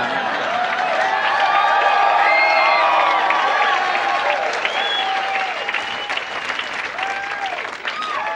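Comedy club audience applauding loudly and steadily during a stand-up set, a dense wash of clapping with scattered cheers and voices that gradually thins toward the end.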